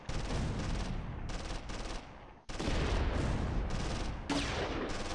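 Sustained machine-gun fire rakes a bunker during a Close Combat III battle, loud and continuous bursts with short gaps, and fresh volleys start up near the middle and end.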